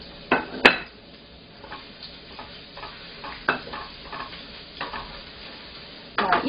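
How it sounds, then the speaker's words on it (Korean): Garlic and ginger stir-frying in preheated oil for a Chinese shredded pork dish, a low steady sizzle broken by several sharp clicks and scrapes of a utensil against the pan, with no talking. "가장 먼저 마늘하고 생강 볶아줍니다."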